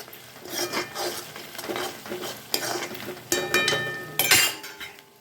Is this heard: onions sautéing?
yes